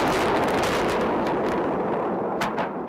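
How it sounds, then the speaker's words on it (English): Continuous heavy rumbling and crackling blasts from cruise missile strikes across the Tigris River in Iraq, a loud, dense roar heard from a nearby room, with sharper cracks near the end. "Just across the Tigris River here, violent explosions."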